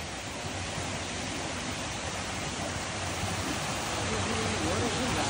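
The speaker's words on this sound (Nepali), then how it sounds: "त्यहाँ नि झर्न रहेछ हौ" A waterfall beside a mountain trail near Ghandruk, heard as a steady broadband rushing roar that stays constant throughout, with no other distinct sounds on top.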